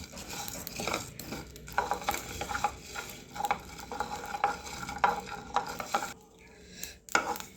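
Black peppercorns and spices dry-roast in a pan, stirred with a wooden ladle, giving a soft rattling scrape in irregular strokes with faint clicks of the grains against the metal, quiet and close.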